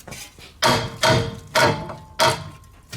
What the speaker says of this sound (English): I'm gonna get a hammer and tap the strut away from the steering knuckle.